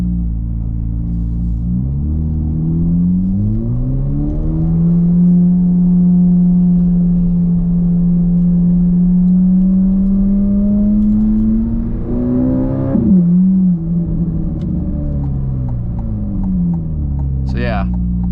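A purple Corvette C8 Z06 sports car engine rumbles loudly up close, climbing and holding at a steady drone before revving briefly and dropping, with a voice talking underneath.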